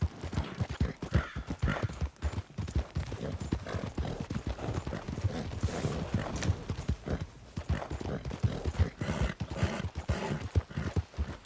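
Rapid, steady hoofbeats of a horse galloping in Red Dead Redemption 2, running loud and continuous for the whole stretch with no pauses.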